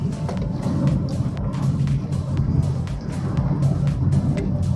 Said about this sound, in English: Just look at how progressive the cornering ability on this car is.